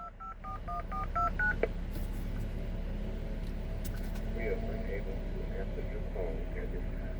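A quick run of touch-tone telephone dialing beeps for a 109 call opens, sounding close and clear over low road and engine rumble, then fades into a steady background hum with faint chatter.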